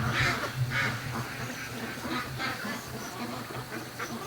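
A free-range duck quacks repeatedly in short, rhythmic bursts, close and fairly clear over a busy outdoor background, with no talking.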